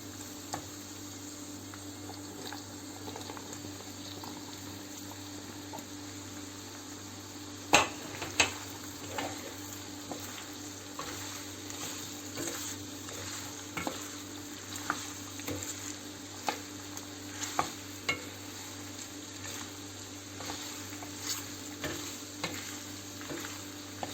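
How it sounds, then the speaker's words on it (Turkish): Potatoes are added to a chicken tas kebab pan and stirred, making a low steady sizzle broken by repeated clicks and scrapes of a utensil against the pan, irregular and close, with no speech. "Şimdi patateslerimi ekliyorum."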